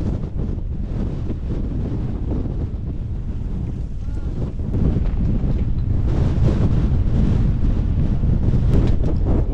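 Strong gusting wind on a cold, icy mountain ridge in Snowdonia, Wales, roars and buffets the microphone continuously, a loud, rough rumble that swells stronger in the second half, with no voices.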